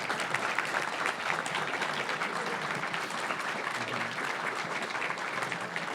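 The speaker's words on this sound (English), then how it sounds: "please give a round of applause to yourselves just for being here" Sustained, dense applause from a large audience at the finale of an RPG Limit Break 2017 charity speedrun event, loud and even throughout with no talk over it.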